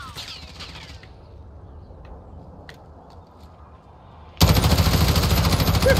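Loud, sustained automatic gunfire bursts in abruptly during a Call of Duty: Modern Warfare Plunder match, following a few seconds of quiet ambience and faint distant shots.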